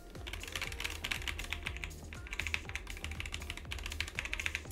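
Keys typed steadily on a Roccat Vulcan low-profile keyboard with tactile, quiet switches, a close, continuous run of fast soft clacks with no voices.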